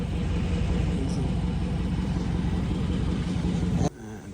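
Close, loud, steady low exhaust rumble from a Dodge Scat Pack V8 running 3-inch straight pipes with mid and rear mufflers deleted, cutting off abruptly near the end.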